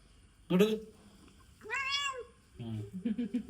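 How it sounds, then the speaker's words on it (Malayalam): A small cat meows three times in short, close calls with brief pauses between them, the last one breaking into a few choppy bursts. "നമ്മളെ പൂച്ചക്കുട്ടി ഉണ്ട് ഇന്ന് രാവിലെ നേരെ മുന്നിലാട്ടോ വന്ന് നിൽക്കുന്നത്."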